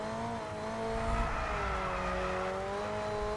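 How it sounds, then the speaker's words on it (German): Tires squealing on a Formula 1 car in the F1 22 racing game at Jeddah, a sustained high whine with shifting tones over the engine drone, loud and unbroken. "gleich quietschen die Reifen"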